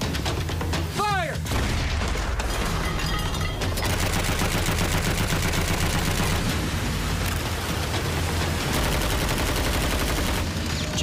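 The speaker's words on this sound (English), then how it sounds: "Japanese machine gun bullets whiz past the sailors and ping off the conning tower" Japanese machine gun fire strikes the conning tower of a submarine in a Pacific war battle scene, a loud dense barrage of rapid shots and impacts with a whizzing sweep early on, continuous and unrelenting throughout.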